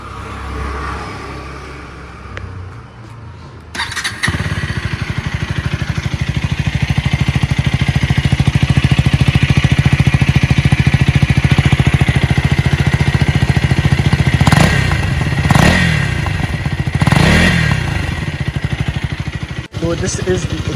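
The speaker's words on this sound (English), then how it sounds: "So this is the exhaust note of the Duke 250." A 2025 KTM Duke 250 motorcycle's exhaust is heard up close, a steady loud single-cylinder idle after start-up, with a few quick throttle blips near the end.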